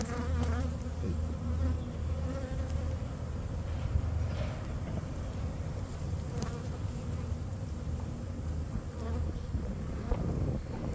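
Honeybees buzz in a dense, continuous drone during a hive inspection, steady and close throughout with no talk over it.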